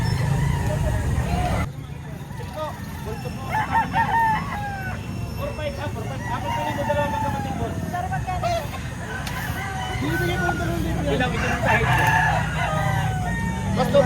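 Roosters crow repeatedly and chickens cluck at a busy Saturday poultry market in Lipa, Batangas, with people haggling over birds and traffic noise underneath.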